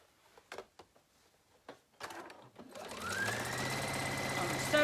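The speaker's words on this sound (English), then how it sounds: "On the sewing machine" A sewing machine zigzag-stitches the final side seam of a pair of men's boxers, beginning with a few scattered handling clicks, then running steadily and close as the whirring motor holds a continuous rhythmic chatter.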